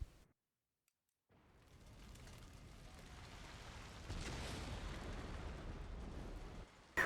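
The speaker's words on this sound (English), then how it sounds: "once the mast is on fire, like this, the whole mast, it's about to blow up." A burning sailing warship blows up in the naval battle video game Napoleon Total War, a brief silence giving way to a swelling roar of fire and blast rumble that peaks and sustains, fairly quiet overall.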